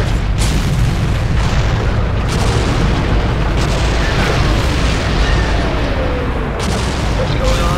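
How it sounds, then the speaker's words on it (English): A fireball hurled into a space station in the Star Wars: The Force Unleashed video game explodes in a loud, sustained roar of booming blasts and crackling debris that fills the whole stretch without a break. "Take that fireball, shoot it towards the station."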